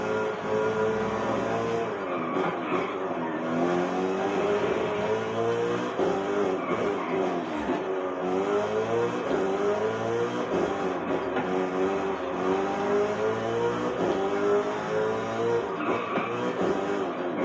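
BMW M3 GTR race car engine in Forza Horizon 5 roars steadily throughout, with continuous revving and pitch rising and falling through gear shifts, loud and close with no talk.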